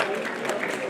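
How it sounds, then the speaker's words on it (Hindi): Dense audience applause in an auditorium during a Congress party gathering, a steady continuous patter of many hands with no single claps standing out. "तालियां बजा के गड़गड़ा दो इसको"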